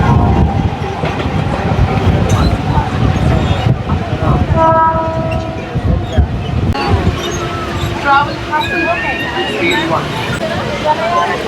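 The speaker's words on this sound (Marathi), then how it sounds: "तर आता लवजीवरून सुद्धा निघाले आहे लोकल आपले." Mumbai local train pulling out of Lowjee station on the run toward Khopoli, wheels clattering steadily under a loud rumble, with brief horn tones partway through and a voice talking over it.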